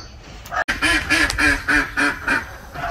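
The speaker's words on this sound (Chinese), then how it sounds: "现在要快点开鸭子， 因为他们现在叫我声音太大。" Ducks on a rural farm quack loudly and close by, about seven rhythmic, evenly spaced quacks following a brief bump at the start.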